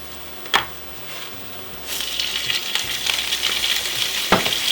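Fresh spinach hits hot olive oil in a pan and sizzles, a steady frying hiss rising and then holding, with a few sharp spoon knocks and stirring scrapes close by.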